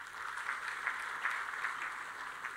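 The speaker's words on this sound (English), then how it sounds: "A big round of applause to them." Audience applause at the APCON 2025 medical conference, a steady faint wash of clapping that rolls on evenly for a few seconds, distant and without voices.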